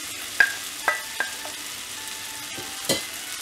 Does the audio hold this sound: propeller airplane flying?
no